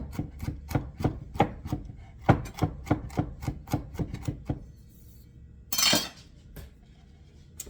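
Fennel being chopped with a knife on a cutting board: a quick run of about a dozen sharp, evenly spaced chops close up, then a pause and a brief scraping rub.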